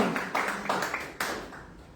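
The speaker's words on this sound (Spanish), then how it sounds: "Un fuerte aplauso a Dios por su vida, amén." A few separate claps ring out in a reverberant church, each sharp hit decaying into the room's echo before the next.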